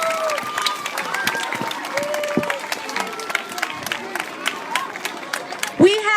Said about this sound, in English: Another round of applause for the GBCS chorus.